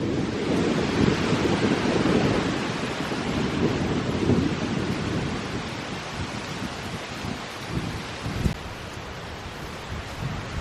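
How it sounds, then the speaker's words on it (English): Strong gusty wind of about 20 miles an hour buffets the microphone at a clifftop overlook in Cliffs of the Neuse State Park, North Carolina, a constant loud roaring rumble with no voices. "It's like 20-mile-an-hour winds out here today."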